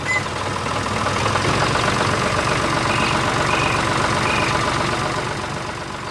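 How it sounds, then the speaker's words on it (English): A tractor engine in an animated cartoon, running steadily with a loud, even rumble and a rhythmic low knock throughout, with no voices. "Is that a bear driving a tractor?"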